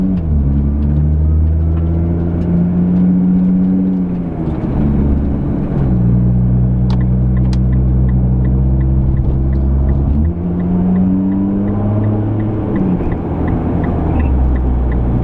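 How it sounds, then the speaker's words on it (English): A 2011 Nissan GT-R engine drones loudly and steadily, its pitch dropping and jumping as the automatic transmission makes several aggressive downshifts during a hard test drive, with no talk. "nice aggressive downshifts too with the transmission"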